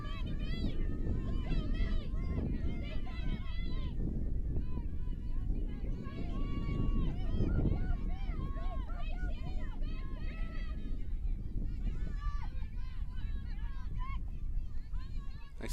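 Strong gusting wind at an outdoor ultimate frisbee match, a steady loud rumble buffeting the microphone under continuous commentary and distant player voices.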